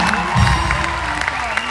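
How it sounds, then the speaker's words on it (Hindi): A studio audience on a comedy show in Sydney applauds and cheers, a dense steady wash of clapping with a few whoops, while a voice talks over it. "सबसे पहले तो मैं आप लोगों के लिए जोरदार तालियां मैं चाहता हूं"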